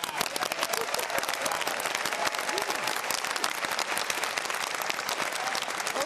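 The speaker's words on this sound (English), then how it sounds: "let's get a round of applause for Pomona College and where we are in this beautiful venue" Applause from the audience at a California governor's debate held at Pomona College, dense sustained clapping at a steady level throughout, with crowd noise mixed in.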